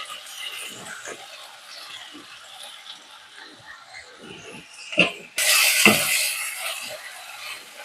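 Chopped onions go into hot oil already holding mustard seeds and cumin. A quiet sizzle with soft stirring scrapes leads up to a sudden louder hiss and crackle as the onions land, then the frying keeps sputtering.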